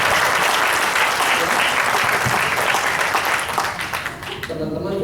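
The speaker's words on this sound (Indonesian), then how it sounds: "Teman-teman boleh tepuk tangan." Applause from a convention audience at a midyear sales convention, dense and steady clapping filling the hall, easing slightly near the end as a voice begins to come through.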